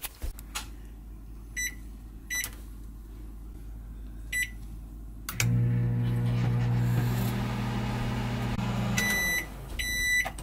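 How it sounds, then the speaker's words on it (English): A microwave oven heating glycerin: a few short electronic beeps, then a steady low hum as it runs for several seconds, ending in a series of beeps. "Now you got to microwave your glycerin"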